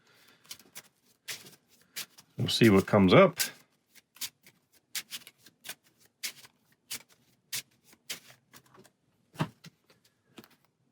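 Hero Realms deck-building game cards are riffled and shuffled in one dense burst on a tabletop, framed by quiet speech with scattered soft clicks and taps.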